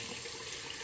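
Cold water running from a tap, a steady broadband rush filling the short moment without pauses, close and even in level.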